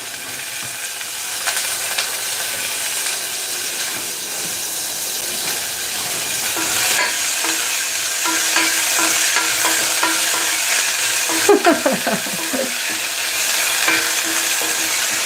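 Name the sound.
sesame seeds sizzling in hot oil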